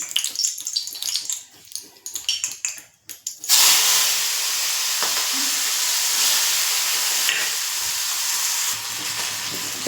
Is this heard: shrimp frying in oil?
yes